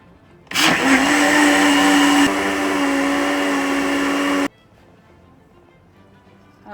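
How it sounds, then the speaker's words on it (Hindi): An electric blender whirs loudly through a caramel pudding mixture for about four seconds, its motor pitch shifting slightly partway before cutting off abruptly into quiet. "इसको ब्लेंड कर लेना"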